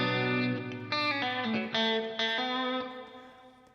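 Processed electric guitar chords run through a Quad Cortex preset chaining noise suppressor, compressor, overdrive, delay and reverb, struck in several loud distorted strums that ring out and fade into reverb tails.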